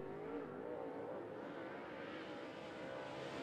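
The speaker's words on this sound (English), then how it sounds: "that is the 52 in the Stinger race car of Ryan King" Number 52 Stinger limited late model race car lapping 411 Motor Speedway, a steady loud engine drone held at high revs throughout.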